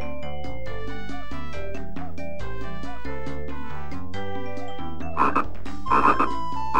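Cartoon frog croaking in the Dora the Explorer repair-adventure game on the VTech V.Smile console, over steady bouncy game music, with a few louder croaks near the end.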